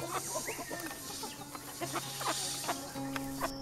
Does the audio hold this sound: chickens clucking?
yes